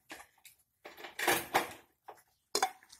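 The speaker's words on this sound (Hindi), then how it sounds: "कुकर का ढक्कन खोलकर देखते हैं" Clattering metal of a pressure cooker lid being handled and opened in a home kitchen after boiling bathua greens, a few bright clanks and scrapes with short pauses between, close and moderately loud.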